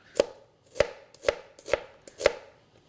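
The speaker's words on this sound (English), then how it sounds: "make vertical cuts in the shallot, and then you're going to make horizontal cuts" A knife chops through a shallot on a cutting board for a corn salsa, five crisp, evenly spaced knocks about half a second apart, close and clear with quiet between them.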